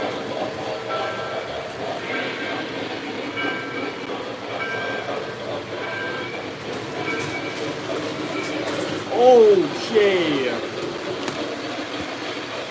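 A small model train rumbling and clicking along its track, a steady rolling clatter with a brief screech and bump near the end as it derails into a wall; a person speaks briefly.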